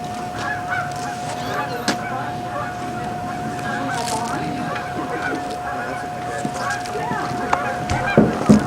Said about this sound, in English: Geese flying, look at them.